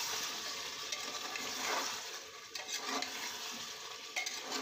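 Hot water goes into a pot of spiced meat curry cooking with elephant foot yam, giving a rushing hiss and bubbling splash that rises, then settles into a softer simmering sizzle.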